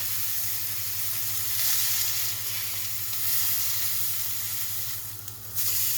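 Scottish steak sizzles steadily in a hot pan, a constant dense crackling hiss that holds close and even throughout, with a low hum beneath and no voices.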